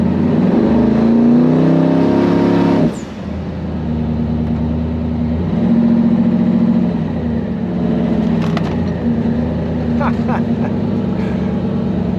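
A loud twin-turbo Hemi truck engine revs on the trans brake and holds a deep roar, dipping briefly before revving again, with a whine rising near the end.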